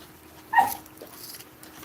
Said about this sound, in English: My dog's in heat, so I have her in the cage.